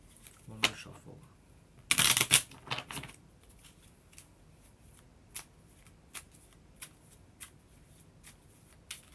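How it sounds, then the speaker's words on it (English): A deck of tarot cards is shuffled up close in a quick loud burst of riffling, followed by scattered soft taps and clicks of cards being handled in a quiet room. "One more shuffle."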